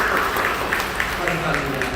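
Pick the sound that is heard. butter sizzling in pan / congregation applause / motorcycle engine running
congregation applause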